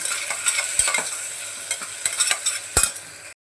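Ginger garlic paste fries in oil with turmeric, onion and tomato, a constant sizzle broken by sharp scrapes and clicks of a spatula stirring the pan, cutting off abruptly at the end.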